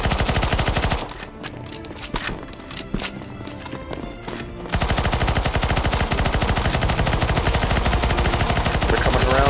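Rapid automatic gunfire from a CS:GO zombie escape match on the Kitchen map, dense continuous bursts starting after a second, thinning briefly, then resuming as a loud unbroken stream to the end.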